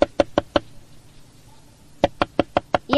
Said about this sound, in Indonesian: Pak, ada yang mengetuk pintu, Pak.